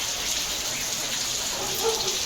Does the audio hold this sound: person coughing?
no